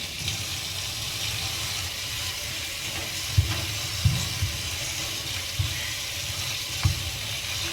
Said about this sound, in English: you can hold it up in the water and take your brush and bend back some of the bristles